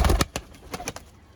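Pigeons, including Teddy and Chinese breeds, at a pigeon sale fair: a few short, soft cooing calls close by, one after another, then fading into quieter murmurs.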